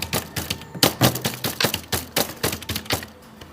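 Rapid keyboard typing clatters in a dense, loud stream of close, sharp key clicks while someone enters text, with no talk over it.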